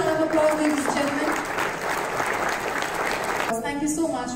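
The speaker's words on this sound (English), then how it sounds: "let's give all the winners a huge round of applause, ladies and gentlemen." An audience at an awards event gives the winners a full, steady round of applause that lasts throughout, with a host's voice heard over the start and the end.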